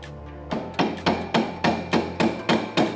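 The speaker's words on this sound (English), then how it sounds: "Lightly tap it in there to spread that hub apart." Flat blade screwdriver being tapped into a go-kart rear axle hub with a hammer, giving about nine sharp, evenly spaced metallic taps, close and clear.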